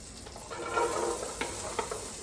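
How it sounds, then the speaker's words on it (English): Onions, carrots and celery sweating in butter in a pan, a soft continuous sizzle with a few light stirring scrapes, close and fairly quiet, no talking. "So I sweat this in my butter"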